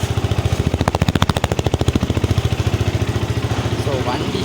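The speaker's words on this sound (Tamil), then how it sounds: "ஸோ வண்டி ஸ்டார்ட் பண்ணால் வேறு லெவலுங்க உண்மையாக." A modified Yamaha R15 V2 motorcycle engine runs close and loud with a rapid, even pulsing exhaust throb that swells briefly and then settles into a steady idle-like beat.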